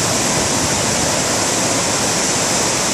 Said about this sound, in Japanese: 抹茶色の 濁流 です。